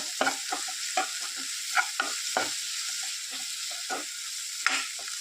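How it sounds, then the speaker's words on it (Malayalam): Chili powder sautéed and stirred in a pan for a Kerala-style boiled egg curry: a steady series of scraping spoon strokes over a soft sizzle, close and fairly loud, with no talking. "രണ്ട് ഒന്നര ടേബിൾ സ്പൂൺ മുളക് പൊടി ഇതിലേക്ക് ചേർത്ത് കൊടുക്കാം നന്നായിട്ടൊന്ന് ഇതിൻ്റെ പച്ചമണമൊക്കെ പോകോളം നന്നായിട്ടൊന്ന് വഴറ്റുക"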